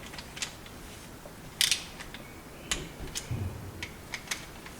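Ratcheting clicks and small metallic ticks come from bolts being fastened on a Mercury 115 outboard crankcase, scattered irregular bursts close by over a low background hiss, with no speech.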